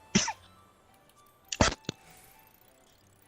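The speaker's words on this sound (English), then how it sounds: "I think with that cough you nearly shattered your mic." Loud coughs close to a microphone during a gaming voice chat, two harsh bursts separated by about a second and a half, the second followed by a short extra hack, with quiet between.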